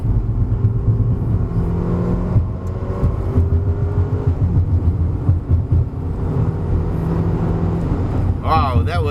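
A 2015 Mercedes A250 with modified suspension drives a winding road, its engine and road noise a steady, fairly loud drone from inside the car, with people talking over it and a brief higher whine near the end.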